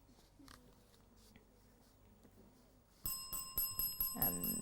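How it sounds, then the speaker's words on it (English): A quiz-match bell rings out at the close of a televised schools competition between two primary schools, sounding several sharp repeated strokes with a ringing tone after a quieter stretch of studio room noise. "that bell signals the end of the match"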